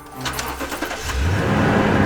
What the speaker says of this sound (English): And then followed by starting the truck.